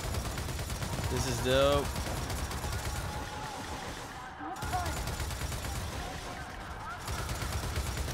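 Gunfire rings out in the video game Gears of War 4, a continuous rattle of shots over low rumbling game sound. A player speaks briefly partway through, and the firing carries on throughout.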